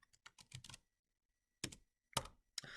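Typing on a computer keyboard in a spreadsheet in Polaris Office, with a quick run of key taps followed by two sharp separate presses after a pause, such as Alt and Enter, close and clear in a quiet room.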